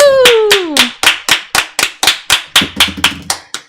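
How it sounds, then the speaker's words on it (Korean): During an online baduk league awards ceremony, a brief vocal sound comes first, then about a dozen crisp, evenly spaced handclaps. The steady rhythm suggests one person or a small group clapping close by, with a faint hum underneath toward the end. "박수!"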